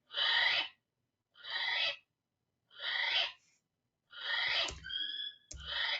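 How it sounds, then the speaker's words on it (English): A female kiwi repeats a harsh, hoarse rasping call four or five times in evenly spaced bursts, loud and close in a recording, with a couple of sharp clicks near the end. "This one is the noise of the female kiwi."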